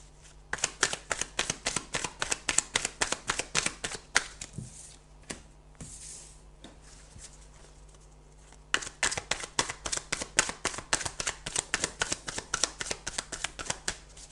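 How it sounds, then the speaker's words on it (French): A deck of Belline oracle cards is shuffled in quick, crisp riffles and slaps, close and loud, with a brief quieter pause midway before the brisk rhythmic shuffling resumes. "je vais faire un tirage avec le Béline"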